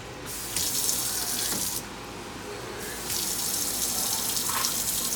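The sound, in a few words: tap water running into pot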